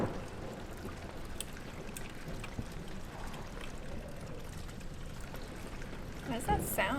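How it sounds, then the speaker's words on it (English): Water running and falling onto a floor in the horror video game Amnesia, a steady low splashing and pouring wash with scattered drips, continuous and moderately loud beneath faint background sounds. "Oh, the water's running."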